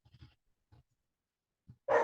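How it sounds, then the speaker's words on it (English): A dog barks once, loud and close, after a few faint muffled sounds in an otherwise quiet indoor room. "Sorry if the dog's barking."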